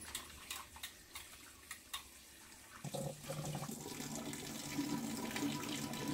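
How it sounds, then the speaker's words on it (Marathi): Pomfret fish are rinsed under a running kitchen tap: a few light clicks and taps come first, then a steady, close stream of water splashes continuously to the end, with no talking. "थोडंसं पाण्याखाली आपण हे स्वच्छ असं धुवून घेणार आहोत"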